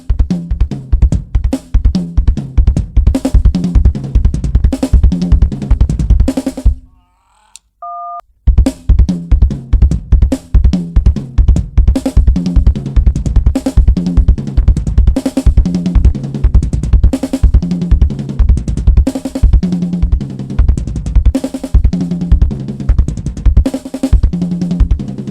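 A fast drum pattern played hard and steady, dense rapid hits driving for about seven seconds, a brief near-silent gap with a couple of faint tones, then the same quick pattern resuming loud and close until the end.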